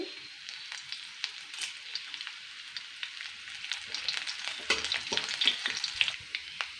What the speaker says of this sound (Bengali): এবার আদা কুচোটা দিয়ে দেবো,